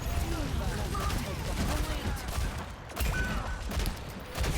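Rapid gunfire crackles in Overwatch as Ashe's rifle fires repeatedly amid busy game sounds, dense and continuous with little pause.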